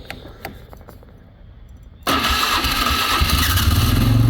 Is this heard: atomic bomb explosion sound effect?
no